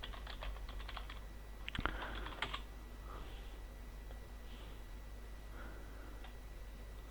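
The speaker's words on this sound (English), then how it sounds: "Now if I type in something random" Someone types on a computer keyboard in a quiet room, with bursts of rapid key clicks followed by sparser single taps against a low steady hum.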